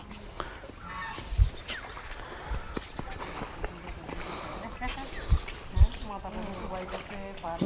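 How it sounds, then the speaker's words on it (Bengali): Domestic geese honk and cackle in a busy flock nearby in Rajail village, Netrokona, overlapping calls throughout while people talk excitedly over them. "এত বড় হাঁস, এটা কি হাঁস? রাজহাঁস।"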